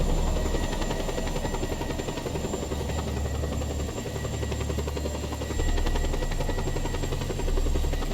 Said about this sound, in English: Baby weaponless helicopter.